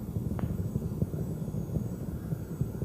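Space Shuttle Endeavour's rocket engines during ascent, about a minute and a half after liftoff from Kennedy Space Center: a steady, distant low rumble with faint crackle, continuous and even throughout.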